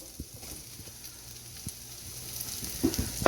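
Mushrooms hitting a hot pan with onions and fennel cooked about eight minutes, a soft, steady sizzle that rises toward the end with a few stirring clatters, no talking.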